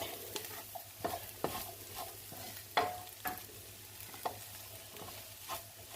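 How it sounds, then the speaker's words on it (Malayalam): Chicken samosa filling is stirred in a hot pan, a spoon scraping in repeated irregular strokes over a steady background sizzle of frying, close and moderately loud, with no talking. "രണ്ടും ഇളക്കാം"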